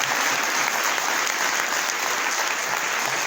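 A church congregation at a Hindi-language sermon breaks into loud, dense, continuous applause that fills the room evenly for several seconds, with no talking over it.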